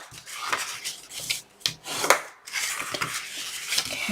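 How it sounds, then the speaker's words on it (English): A bone folder burnishes the fold lines of a paper bath salt packet box with repeated close rubbing and scraping strokes of uneven length and brief pauses between them. "Let's go ahead and get our bone folder. And let's burnish all of our lines."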